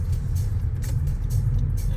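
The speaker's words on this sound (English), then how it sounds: "Just wait for Willie here to park his truck" A truck pulls into a parking lot at a Lower Sackville, Nova Scotia road-test site, its engine giving a steady, close, low rumble throughout with faint road hiss and no talking.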